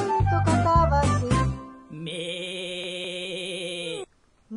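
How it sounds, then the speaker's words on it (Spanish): A cartoonish goat bleat in a children's song, a sustained wavering tone lasting about two seconds that follows a burst of musical backing and cuts off abruptly. "No, Bartolito, eso es una cabra."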